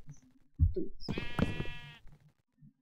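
A single long, loud sheep bleat from Minecraft, wavering and nasal, rises out of quiet, with faint game sounds and brief soft talk before and after.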